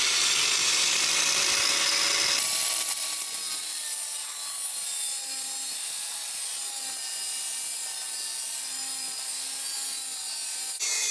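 A cutting tool slices through the upper wishbone ball joint of a Mercedes SLK R170, a loud continuous grinding and rasping that runs steadily for about ten seconds, close up with no talking.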